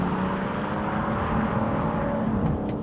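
A BMW 640d Gran Coupe pulls away under launch control with its wheels spinning, giving a loud, sustained engine roar and tire noise heard from inside the car, building steadily.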